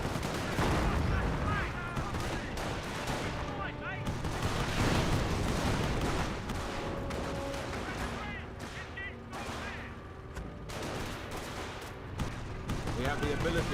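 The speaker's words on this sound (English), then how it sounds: "the British player is just sitting ducks to these mortars" Mortars fire during a Company of Heroes battle, repeated thudding launches and bangs mixed with gunfire in a dense, continuous wartime din, with a voice talking over it.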